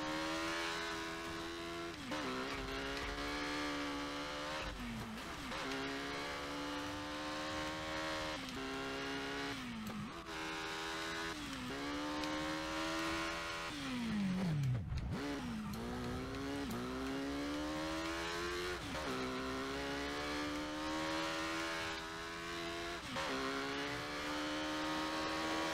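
A motorcycle tears along at high speed in Burnout Paradise, its engine whining steadily with repeated revving climbs and gear-shift dips, plus a brief crash-like thud midway, sustained and close throughout.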